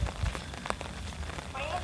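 Rain falls steadily across a park of wet cherry blossoms, a soft continuous patter filling the background, with a brief bird-like chirp near the end.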